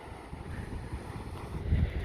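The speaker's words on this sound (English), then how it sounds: "There is a bit of wind, so I'm sorry about that." Wind buffets a microphone on the coast near a lighthouse, giving a low, rumbling gusty roar that swells toward the end of the short stretch.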